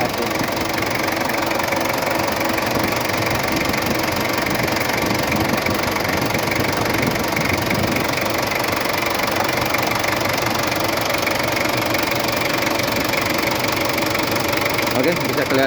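A car engine idles steadily at close range through the whole stretch, a continuous mid-pitched running drone with a faint knocking texture and some vibration, while a person talks over it; the engine was just started after a stiff starter was repaired.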